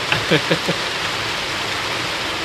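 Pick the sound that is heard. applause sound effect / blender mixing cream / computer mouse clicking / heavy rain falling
heavy rain falling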